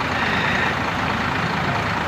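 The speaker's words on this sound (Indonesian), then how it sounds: "Wah, bus double decker nih" A double-decker bus at Kampung Rambutan terminal gives off a steady, loud engine rumble mixed with dense terminal noise, continuous throughout.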